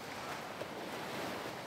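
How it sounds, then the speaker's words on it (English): Cartoon ocean waves rolling onto a beach, a steady broadband wash of surf with a breezy edge, continuous and moderately quiet with no voices. "These waves just keep coming."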